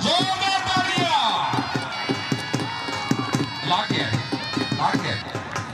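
A crowd at an outdoor kabaddi match claps in a quick, steady rhythm while a voice calls out loudly over it through a loudspeaker.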